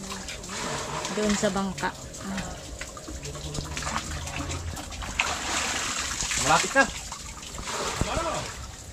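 Water splashing and trickling as it is poured while making coconut sap lambanog, intermittent and close, while people talk nearby.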